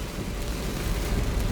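Steady rain falls on a rainy day, a dense, even hiss that stays constant and fairly loud throughout with no talking.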